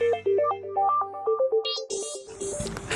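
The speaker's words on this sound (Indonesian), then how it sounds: "Kok kayak ada yang getar-getar ya?" A new mobile phone plays a melodic ringtone of bright stepped tones, loud and close, followed by higher buzzing bursts like vibration and rustling, with no talk over it.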